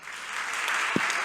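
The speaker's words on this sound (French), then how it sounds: "Vous pouvez l'applaudir." Audience applause at a university thesis-presentation final, a steady moderate patter of clapping throughout the short stretch with one sharper knock near the end.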